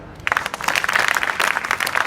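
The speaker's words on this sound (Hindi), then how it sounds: "इनके लिए ताली बजाओ।" A room of school students at an inter college breaks into applause after a short quiet moment, a dense burst of many hands clapping that stays loud and even to the end.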